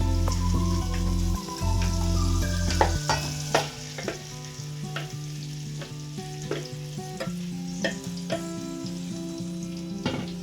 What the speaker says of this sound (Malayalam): ചിക്കൻ ഇട്ടിട്ട് നന്നായിട്ട് ഒന്ന് ഇളക്കുക ഇളക്കി യോജിപ്പിച്ചിട്ട്